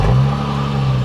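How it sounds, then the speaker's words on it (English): A V6 four-door sedan engine with factory exhaust revs steadily and quietly, its low, even hum sustained throughout with no talking. "the V6s really don't sound that bad. They have kind of a cool sound to them."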